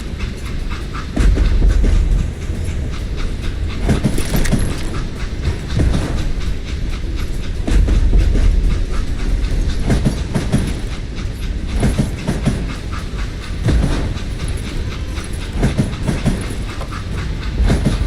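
Train in the Call of Juarez video game rolling on rails, loud and continuous with rhythmic clickety-clack wheel beats and heavy rumbling surges, no voices.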